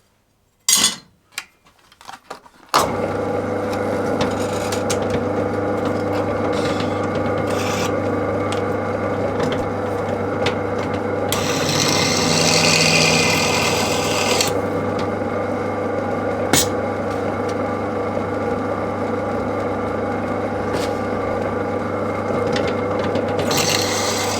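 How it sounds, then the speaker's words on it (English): A drill bores holes through a wooden knife handle for Loveless bolts, a steady close grinding whir running continuously for a long stretch, with a brief rougher, brighter patch partway through. "Drill's cutting lovely."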